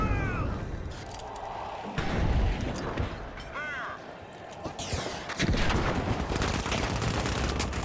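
Rapid gunfire and game action in The Finals, dense and continuous through the whole stretch, mixed with impacts and effects, with voices talking over it throughout.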